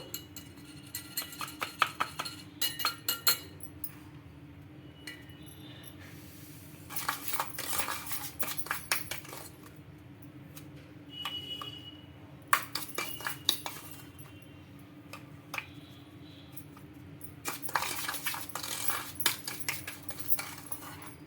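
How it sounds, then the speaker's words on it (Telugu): A mixture spooned little by little into an ice cube tray for homemade air freshener, with bursts of clinking, scraping and tapping of utensils against dishes, separated by quiet gaps. "ఐస్ క్యూబ్ ట్రై అయితే తీసుకున్నాను ఒకటి ఇంకా ఇప్పుడు ఇందులోకి కొద్ది కొద్దిగా వేసుకుంటూ"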